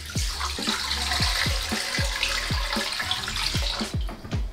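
Water pours steadily into a metal pressure cooker, a continuous splashing rush with rhythmic gurgling pulses as it fills.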